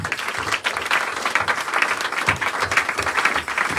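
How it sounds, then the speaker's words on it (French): A church congregation claps together during a Sunday worship service, a busy, continuous burst of hand claps with slight rhythmic pulses throughout. "Applaudissons le Seigneur."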